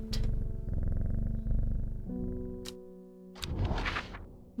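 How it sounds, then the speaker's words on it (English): A cat purrs steadily in the video game Strange Horticulture, a low rumbling drone under soft game music, followed by a short click and a brighter rustling burst near the end. "Cat."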